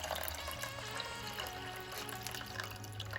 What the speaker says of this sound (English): Once you have your coconut milk ready, go ahead and add it to your pot of water.